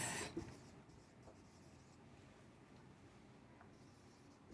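A marker or chalk scratches faintly across a board in a classroom lesson, a soft continuous scraping rub, quiet and close, with no voices.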